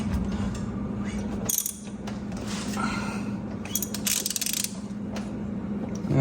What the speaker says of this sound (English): We'll loosen the 14 millimeter pivot bolt.